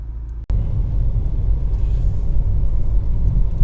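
A BMW 320d 2.0 diesel saloon, Efficient Dynamics model, gives a loud, steady low rumble from the road, constant and unbroken after a brief dropout at the start, with no voices.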